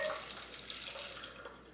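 A cocktail is poured into a Nick and Nora glass, a soft steady liquid trickle with a faint splash, heard close and quiet for under two seconds.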